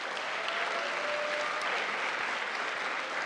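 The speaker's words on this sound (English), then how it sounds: "So give yourselves a round of applause" Steady applause from a convocation audience honoring a student, dense and sustained clapping throughout with no voices over it.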